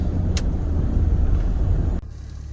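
Exotic sports cars, a Maserati, a Ferrari, a Porsche and an Alfa Romeo, rolling past on a California road, a loud close engine roar and tyre rumble that cuts off abruptly, with no talking.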